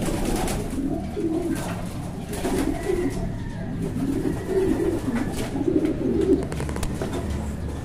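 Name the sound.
pigeons cooing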